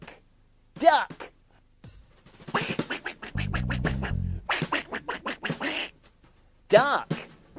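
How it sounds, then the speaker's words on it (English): A duck quacks in two short, loud, separate bursts on a farm-animal children's show, with speech and a short musical figure in between. "Look, duck."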